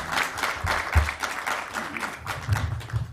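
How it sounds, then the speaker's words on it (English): A crowd at a conference in Johannesburg applauds steadily, a dense patter of many hands clapping throughout with no talking. "she deserves another warm round of applause."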